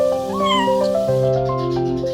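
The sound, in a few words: cat meowing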